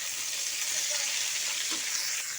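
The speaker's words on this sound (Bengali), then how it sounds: "গরম হয়ে গিয়েছে, এখন মিষ্টি কুমড়া ভাজি দিয়ে দেবো" Pumpkin fries in a hot pan with a soft, steady hiss and crackle of sizzling oil, faint and continuous with no talk.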